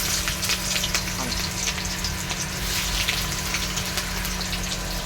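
Potatoes and onions hiss in hot oil, a dense, steady sizzle with faint crackles throughout and no voices.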